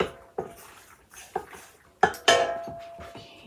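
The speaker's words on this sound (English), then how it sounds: "I put in a little bit of avocado oil and I'm tossing the noodles around" Noodles tossed in a pan with avocado oil, making a few separate clanks and scrapes of a utensil against the pan with soft sizzle between them, close and fairly loud.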